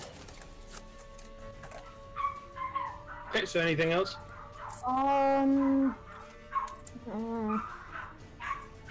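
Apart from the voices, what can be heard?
dogs barking and whimpering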